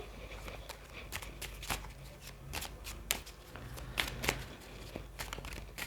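Tarot cards being shuffled repeatedly, a steady run of soft riffling snaps and flutters close by, with no talking.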